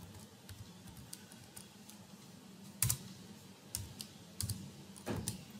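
A name being typed on a computer keyboard, quiet irregular key taps with a few louder presses, close by and with no speech.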